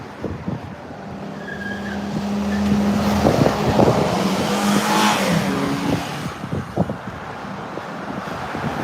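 Loud road traffic rushes past on a windy spring walk outdoors, vehicles swelling and fading nearby amid gusty wind buffeting the microphone.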